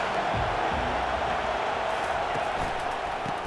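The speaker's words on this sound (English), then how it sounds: "This crowd trying to show them what it's going to be like all day in this house." Steady roar of a stadium crowd at Clemson during an Arizona Wildcats at Clemson Tigers college football video game, a broad continuous wash of noise filling the whole clip with faint murmur underneath.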